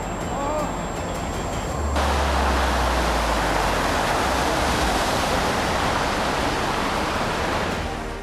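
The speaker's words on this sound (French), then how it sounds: "On peut voir les vagues en train de grossir plus elles sont proches" Tsunami waves surge into a Japanese port, a loud, dense wash of roaring water that jumps up suddenly after a quieter start and then churns on steadily without letup.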